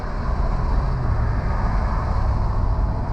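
A twin-turbo Ford F-150 with a 5.0 V8 drives uphill, its loud, steady low rumble blended with constant wind noise the whole way through, with no talking.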